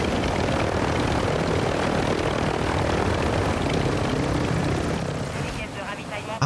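A helicopter in the video game Call of Duty Warzone 2 makes a loud, continuous rotor and engine drone close by that eases off slightly near the end.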